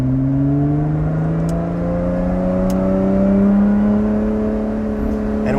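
A Lotus Exige 410 V6 engine revs steadily, its loud droning tone sliding gradually upward in pitch as it builds, heard from close by inside the car with no talking.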